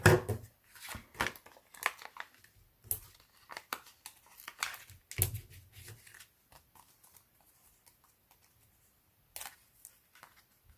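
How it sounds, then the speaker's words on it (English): Scissors snip a worn sheet of foam dimensionals for card making, with crisp crinkling cuts and rustles in irregular bursts, close and soft, thinning out toward quiet near the end. "I've got a sheet of dimensionals that is on its last leg, so I'm just going to snip some of these"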